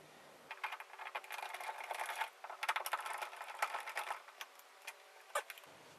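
A screw is worked loose from a light switch cover plate, giving a steady run of small metallic clicks and scraping ticks, close and fairly quiet, with no talk.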